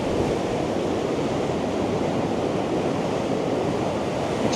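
Ocean waves break steadily around the pilings of Matagorda fishing pier, a continuous loud wash of surf mixed with wind noise on the microphone, without voices.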